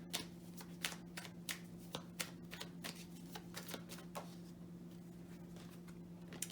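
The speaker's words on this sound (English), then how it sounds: "Let me get 1 more card for you." Tarot cards are shuffled and drawn from a deck, with a quick run of soft, crisp flicks and taps close by under a steady low hum and no talking.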